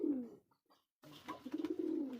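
Pigeons of a fancy breed coo close by, a low throaty burst, a brief pause, then a longer rolling series of soft, pulsing coos.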